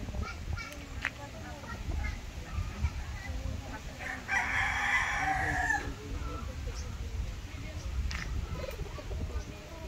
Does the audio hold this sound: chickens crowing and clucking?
yes